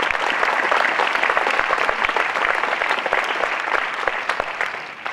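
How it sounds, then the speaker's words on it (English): A crowd at a student center grand opening claps steadily, a dense wash of applause that carries on at an even level and eases slightly toward the end. "Give them a round of applause."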